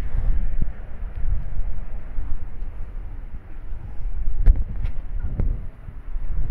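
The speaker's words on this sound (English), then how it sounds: "big wind gust coming in" Strong wind roars and buffets the microphone in a low, steady rumble with surges during a sudden heavy rain shower, a few sharp knocks cutting through near the end.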